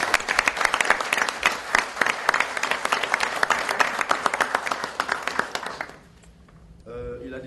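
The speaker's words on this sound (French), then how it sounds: "monsieur le ministre des Sports, monsieur Albert François Amicha, que je vous demande d'applaudir." A crowd gathered for the sports minister's visit to a national football team claps loudly and steadily in dense applause, which dies away near the end as a voice begins speaking.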